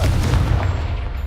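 A Confringo fire spell detonates in Hogwarts Legacy, a loud booming blast with a rumbling low end that decays over about a second.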